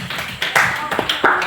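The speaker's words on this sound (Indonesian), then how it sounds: "Silakan tepuk tangan" Students in a classroom clap their hands in a brief burst of scattered claps, close and lively, with faint voices mixed underneath.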